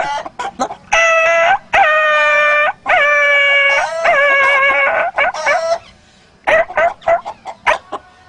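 A man imitates a dog with his voice, giving loud, close howls and drawn-out yelps broken by short yips. The sustained cries alternate with brief gaps.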